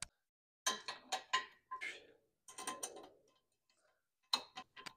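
A wrench snugs a muffler mount bolt on a 1949 Flathead Servi Car, a short burst of rapid ratcheting clicks, a pause, another run of clicks, then a final quick series, close and fairly quiet.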